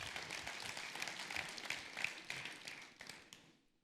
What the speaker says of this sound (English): Can I get an amen and some applause this morning?